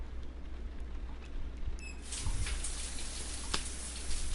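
A shower runs in the video game Heavy Rain, a steady hiss of falling water that grows slightly fuller partway through, with a faint beep and scattered drips.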